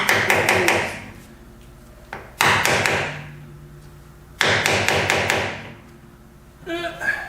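A hammer strikes rusted-out metal in two bursts of rapid, loud, ringing blows, each trailing off, with a sharper clatter at the end.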